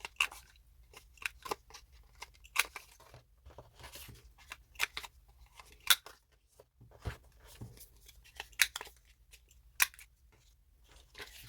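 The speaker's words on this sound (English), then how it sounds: "we will round all the corners off here first" Scissors or a corner rounder snip the corners off paper journal tags in a series of sharp, close clicks and cuts, spaced irregularly with quiet pauses between.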